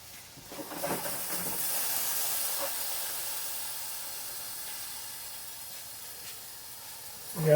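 Homemade pork sausage sizzling and hissing in a hot pan, steady and close, fading slightly over time with a sharp clunk at the very end.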